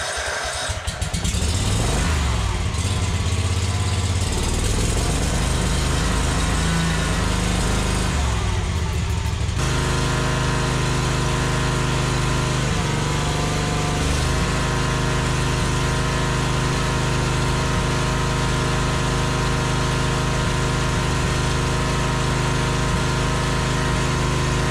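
A commercial zero turn mower's small engine cranks and catches, then runs at a steady, loud idle with a strong even hum, close by and alone with no talk.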